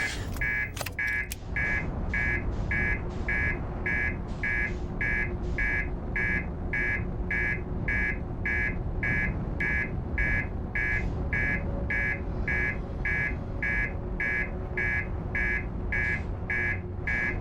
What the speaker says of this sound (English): Can you turn off the alarm?